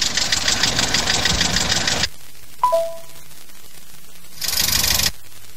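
Car engine running with a knocking fault, a loud rough rumble for about two seconds, then a brief metallic ding and quiet, before another short burst of engine noise.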